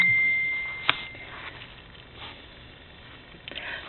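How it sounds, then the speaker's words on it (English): A mobile phone sounds one short electronic notification beep, a thin steady tone lasting about half a second, followed by a soft tap and faint handling noise in a quiet room. "my phone is going haywire again"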